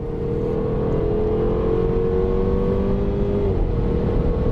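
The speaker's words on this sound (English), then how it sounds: "all you can hear is the engine whine" A steady engine whine from a 2016 MINI Clubman Cooper S while driving, with the sound symposer off, a sustained tonal hum rising slightly over a constant road rumble, with no talking.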